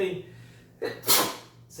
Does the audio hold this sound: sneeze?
yes